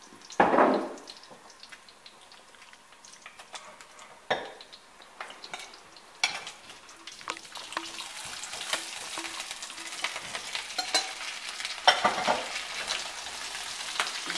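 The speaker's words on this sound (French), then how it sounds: "je mets un peu d'huile d'olive pour faire cuire les patates" Potatoes frying in olive oil in a pan, a steady sizzle that grows busier over time, with occasional utensil knocks and stirring scrapes, close.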